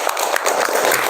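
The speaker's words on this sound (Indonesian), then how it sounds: "Beri tepuk tangan untuk teman kita." A classroom gives a short burst of clapping for a classmate, a dense patter of many hands at moderate loudness lasting about a second.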